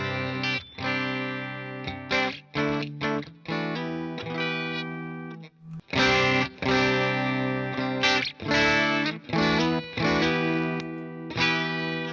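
An electric guitar plays a clean tone through a Hello Sailor Effects Anchor Drive pedal, sounding alone as a run of strummed chords and single-note phrases with sustained, ringing notes, moderately loud and close.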